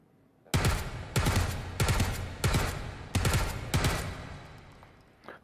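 A compact MP5K submachine gun fires in a VR shooting game: six short, sharp automatic bursts in quick succession, loud and close, with brief gaps between them and no talking.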